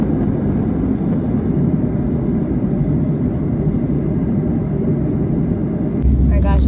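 Steady, loud low rumble of airplane cabin noise during a flight to Florida, a continuous drone that holds unchanged for several seconds with a brief shift near the end.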